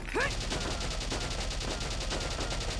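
Dense, continuous automatic gunfire rattles through a war video game battle, a sustained loud barrage of rapid shots with a brief rising electronic tone near the start.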